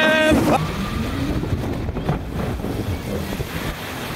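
An amusement park water ride at Attractiepark Slagharen plunges into water after its big drop. A rider's brief shout gives way to rushing wind and a broad, loud wash of splashing water.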